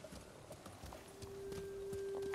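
Horse hooves clip-clopping in the video game Ghost of Tsushima, a quiet, steady walking rhythm of soft thuds under a sustained tone that enters partway through.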